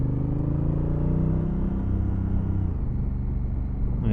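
A brand new Honda CRF1000 Africa Twin hums at low revs in sixth gear, a steady close engine rumble with a smooth pitch drop partway through as the rider shifts or eases off.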